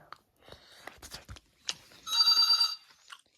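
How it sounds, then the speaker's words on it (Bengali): A telephone bell rings in a short, bright burst of repeated electronic tones about two seconds in, preceded by scattered faint indoor voices and room noise. "ফোন আবার কেন এসেছে"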